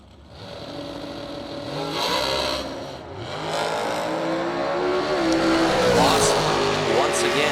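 A drag racing car making a solo pass at the March Meet, engine roaring and rising in pitch as it launches and pulls away, loud and sustained, with a commentator talking over it.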